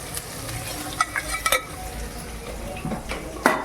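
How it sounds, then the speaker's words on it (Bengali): Paneer pieces fry in a pan with salt and turmeric, giving a steady low sizzle broken by several sharp scraping and clinking stirs from a utensil against the pan. "এইভাবে পনিরগুলো আমি লাল লাল করে ভেজে নিয়ে দেখাচ্ছি"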